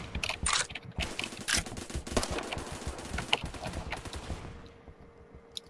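Gunfire in the Roblox game Phantom Forces, a rapid series of sharp, fairly close shots with clattering mechanical noise, steady through most of the clip, then trailing off into a quieter stretch with one last shot.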